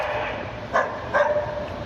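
A dog barks twice, short and muffled, over a steady background hum.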